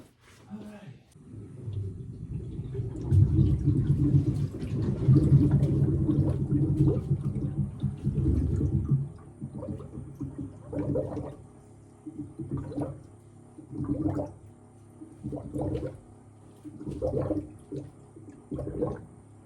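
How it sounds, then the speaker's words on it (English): Water and trapped air pockets surging through a rear-mounted car radiator on a Malibu: a rushing, gurgling flow for several seconds, then bursts of nearby talking. "Just pushed a lot of water out, or a lot of air pockets out just then."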